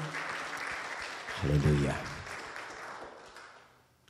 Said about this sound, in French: applaudir pour le Seigneur?